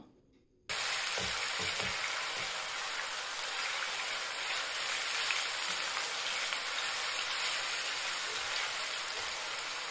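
Steady loud sizzling of carrots frying in a little oil, starting abruptly after a brief quiet moment, with a few soft clinks early on.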